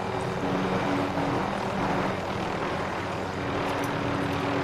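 An airplane drones in a Call of Duty-style video game, a steady, fairly loud engine rumble that holds through the whole stretch with no talk over it.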